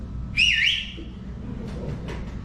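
A single loud human whistle, short and bright with a quick rising and falling pitch, over steady room noise.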